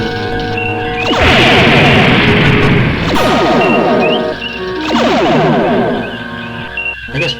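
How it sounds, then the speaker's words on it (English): Photon torpedoes explode in a space video game: loud, crashing electronic blasts with echoing booms that swell and fade in several successive waves. "I guess photon torpedoes work better than phasers."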